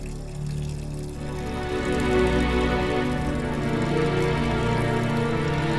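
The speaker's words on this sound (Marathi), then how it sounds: "पाण्याचा आवाज कुठून येतोय हा?" Water pours in a steady, continuous stream that swells slightly after the first second and holds at a moderate level, with no voices over it.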